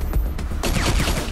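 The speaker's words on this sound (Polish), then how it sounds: "3 strzały powinny załatwić sprawę." Gunfire in the video game Wasteland 2: a short, loud burst of several rapid shots in close succession, dense and booming.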